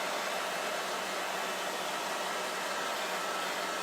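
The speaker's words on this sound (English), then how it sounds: "quick blow dry that" A blow dryer drying a chalk craft project produces a steady, even rush of air noise, moderately loud and unbroken for the whole stretch, with no voices.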